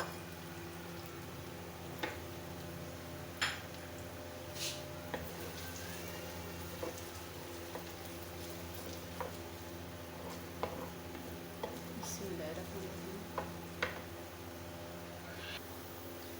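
Finely chopped onion and garlic fry in a pan, a steady soft sizzle broken by scattered small pops and ticks, close and fairly quiet, with no talking.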